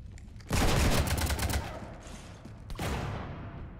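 Rapid bursts of gunfire in the Mass Effect 3 video game strafe a ship, loud and dense from the start, easing briefly before a second heavy volley rolls in.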